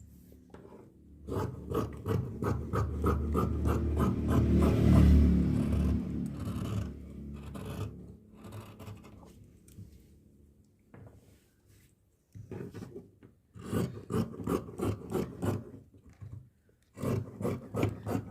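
Scissors cut through fabric for straight pants in a series of crisp, rhythmic snips, with a longer rough scraping stretch partway through, close and alone.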